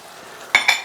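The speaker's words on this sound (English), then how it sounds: "And then just give that a little stir and a toss." Chicken and cashew nuts stir-fried in a pan, a quiet steady sizzle broken by two short bright scraping clatters of stirring and tossing near the end, with no talking.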